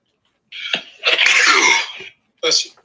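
A single sharp sneeze bursts out close and loud after a brief intake of breath, followed by a short voice.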